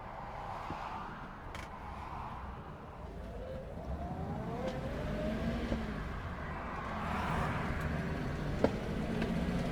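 A car driving along a road on the way to a vintage car show in Elizabethton, with a steady engine and road rumble throughout and a few faint tonal sweeps and clicks over the top.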